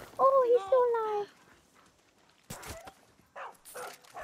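A poisoned dog in the Far Cry 6 video game lets out a run of high, wavering whimpers and whines in the first second, followed by scattered game noises and faint speech.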